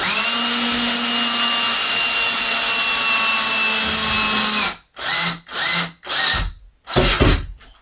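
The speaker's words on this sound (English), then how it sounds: "That's one reason I like to use a cordless drill." A cordless drill whines steadily at high speed, then stops and restarts in several short bursts as screws are driven in, loud and close.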